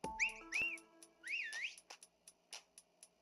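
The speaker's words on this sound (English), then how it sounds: "What about the whistle?" A bright, tuneful whistle from a character in the Detective Pikachu video game: two rising and falling melodic phrases, then a run of short clicky taps and snaps trailing off, clear and close with no talk.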